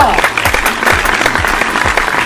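A studio audience at a comedy quiz show spoof bursts into loud, dense applause, many hands clapping close together without a break.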